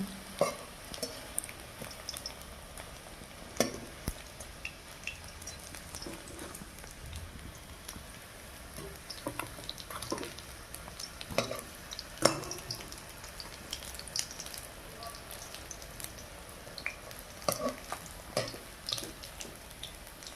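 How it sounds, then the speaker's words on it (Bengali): Fish pitha frying in oil in a wok, a faint, steady crackling sizzle with scattered pops and a few sharper ticks throughout, no talking. "যে লাল লাল ভাজা ভাজা হয়ে গেছে, এবারে কড়াই থেকে উঠিয়ে নেব।"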